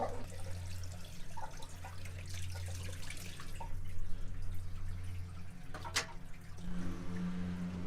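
Water draining from the plug of a pool sand or cartridge filter, a steady close trickle and splash running throughout with one brief sharper knock near the end.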